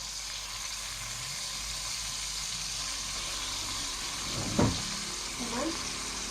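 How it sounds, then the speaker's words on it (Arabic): Spices sizzle in melted ghee and oil in a pan, a steady close crackle broken by a sharp clatter of stirring partway through. "السمنه تسيح وانا حاطه زيت برضو اهو"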